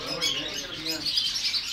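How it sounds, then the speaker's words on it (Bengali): Small birds chirp and tweet steadily in a crowded bird shop where chickens are kept among many other caged birds, with bright, busy calls running throughout and faint indistinct voices underneath. "এটা আর একটা মুরগি,"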